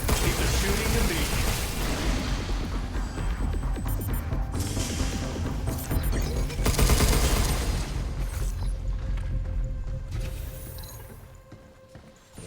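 Gunfire in the video game Pragmata, dense rapid bursts of shots and mechanical clatter filling the first part, thinning out toward the end, with a voice talking over the action.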